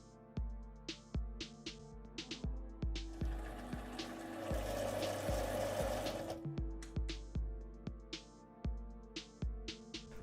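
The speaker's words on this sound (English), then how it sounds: "Thread cutting tool got no problem to cut M10 thread on aluminium" A lathe thread cutting tool cutting an M10 thread on aluminium, a steady rhythmic run of repeated mechanical clicks with a harsher, louder cutting whir in the middle before the even ticking resumes.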